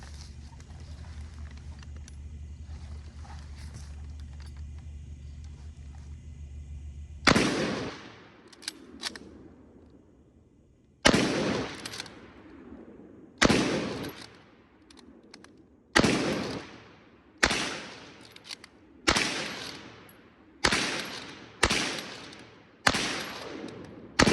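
Short Magazine Lee Enfield rifle fired downhill outdoors: after a steady background hum stops, a series of loud, sharp single shots follows, each with a decaying echo, spaced a few seconds apart and growing more regular.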